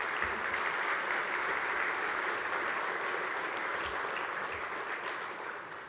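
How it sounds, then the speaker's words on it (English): A conference audience at the NHLA 2025 hardwood industry opening session applauds the association staff, sustained dense clapping that holds steady and fades slightly at the end. "Can we give a round of applause to the NHLA staff?"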